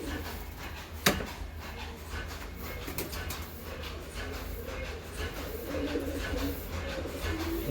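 A male pigeon coos softly in a low, repeated throaty warble, heard faintly against a steady background hum with a sharp click early on.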